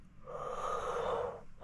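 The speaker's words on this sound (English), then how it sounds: "that wasn't a yawn, that was half yawn." A person's half yawn indoors, a single breathy, airy exhale swelling and fading over a second or so, quiet and close, with no talking.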